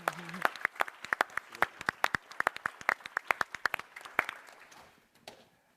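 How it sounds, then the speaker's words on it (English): Audience applause for a panel at an Army Reserve seminar: several seconds of crisp, moderately sparse clapping from a modest crowd that tapers off at the end, with no talking over it. "Let's give a round of applause to our panel."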